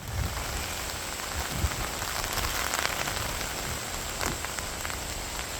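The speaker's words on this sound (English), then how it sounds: "it's starting to rain, gotta get inside" Steady rain patters on a one-man ultralight trekking-pole tent at night, a continuous dense hiss of drops with a few louder individual hits, close and even throughout.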